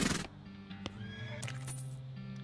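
A horse whinnies in the game West of Loathing. The neigh is loud and bursts out at the start, then low snorts and faint hoof-like clops follow against a steady background tone.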